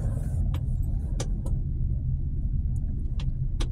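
Road traffic on a southbound route, with a continuous low engine rumble from cars close by and several short clicks and rattles over it, steady throughout without talk.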